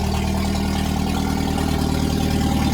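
Loud, steady idle from a Jeep YJ engine running with no exhaust fitted, a constant rough rumble with no talking over it.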